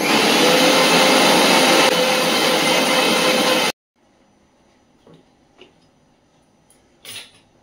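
A blender grinds a thin paste for prawn malai curry, a loud steady whir running alone for almost four seconds before cutting off abruptly, followed by quiet clinks and light handling noises.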